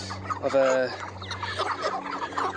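Farm chickens clucking close by, a run of throaty calls with a drawn-out squawk early on, followed by scattered softer clucks and rustling, with a faint voice briefly heard.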